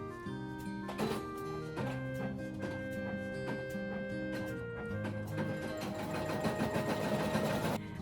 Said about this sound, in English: the PE 900 is going to take 5 minutes to embroider the outline, and the SE 630 is going to take 8